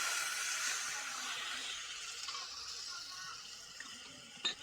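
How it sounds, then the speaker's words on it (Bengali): Water poured into a pan of fried spices for a jackfruit seed curry, a continuous close gush and hiss that fades slightly before a brief clatter at the end. "এবার জল দিয়ে দিব।"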